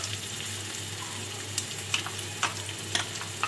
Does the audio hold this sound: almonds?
yes